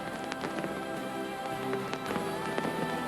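Fireworks burst over water during a combined drone and firework show, a run of sharp cracks and pops at uneven intervals over a continuous background roar, heard from some distance.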